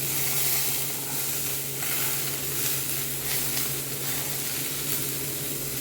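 Chopped carrots and beans fry in a pan with a steady, close sizzle and hiss that runs the whole time, with no one talking.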